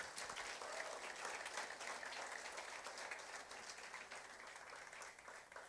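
A church congregation claps together in a long, dense round of applause, heard faint and far off, steady before gently tapering near the end.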